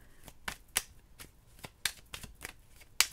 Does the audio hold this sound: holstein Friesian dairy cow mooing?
no